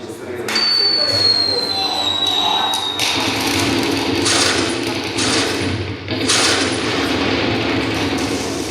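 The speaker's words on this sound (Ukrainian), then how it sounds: "Музика та звуки стрілянини як антураж." Bursts of recorded gunfire and thumping shots play over music and background noise during military medic training on robotic patient simulators, with sharp impacts repeating across the scene.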